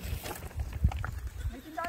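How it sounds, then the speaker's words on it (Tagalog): Goats bleat in short bursts around a farm, a few faint calls mixed with shuffling and someone talking nearby. "mga alaga akong kambing. Dami nating alaga ditong kambing"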